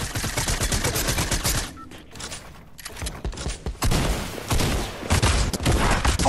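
Video game gunfire comes in loud, rapid bursts separated by brief quiet gaps, the shooting broken up and then picking back up again near and hard.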